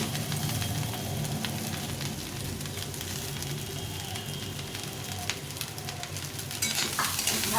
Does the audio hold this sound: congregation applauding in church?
no